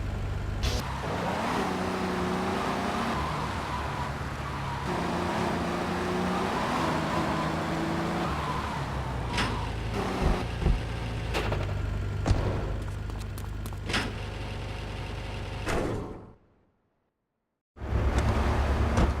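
A Blista car in GTA3 drives along a road, its engine humming steadily with rising and falling revs and some road noise. Sharp knocks break in near the end, then the sound drops to near silence before it returns.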